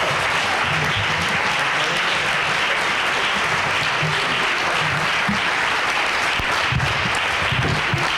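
Renewed audience applause for Tim Wise after a Martin Luther King Jr. commemorative lecture, a dense, unbroken wash of clapping across the hall with faint crowd murmur underneath.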